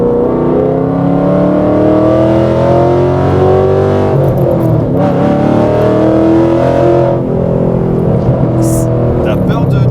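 Ford Mustang engine roaring loud and close, a deep sustained drone with rising and falling revs that fills the whole stretch, with a brief voice passing under it.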